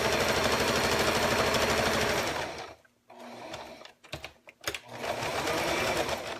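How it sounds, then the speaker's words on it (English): Sewing machine stitching around paper-pieced snowman quilt blocks, a fast steady mechanical whir that stops briefly, ticks a few times, then runs again, close and moderately loud with no speech. "I want you to just sew around the extra here just to hold everything down and in place."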